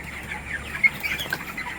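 Chickens on a poultry farm cluck softly while feeding, with scattered short clucks and faint rustling at a moderate distance and no speech.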